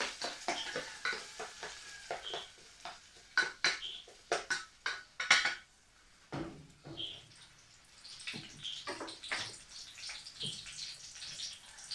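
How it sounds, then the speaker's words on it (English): Onion, green pepper and carrots land in hot oil, giving irregular sizzling bursts and stirring clatter, with louder scattered hits early and a softer, steadier frying hiss later, no talk. "So my oil is hot now. I'm going to put my onion, green pepper, also my carrots"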